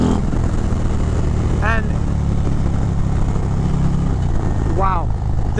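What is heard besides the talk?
2023 Harley-Davidson Road Glide ST 135 motorcycle engine riding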